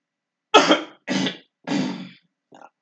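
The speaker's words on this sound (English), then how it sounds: "whenever hiccups and I have to cough" Three distinct coughs in a row, close and loud, each separated by a brief pause, then a faint fourth one trailing off.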